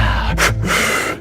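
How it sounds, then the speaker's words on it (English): A single deep breath released as an audible breathy "ha" exhale during a guided breathing exercise, close and alone with no other sound. "Now make a sound of ha with each and every exhale."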